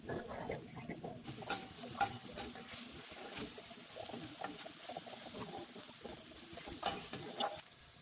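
Onion frying in a pan with freshly ground coriander masala, stirred steadily, giving a continuous close sizzle with scraping and light clinks throughout, no talking.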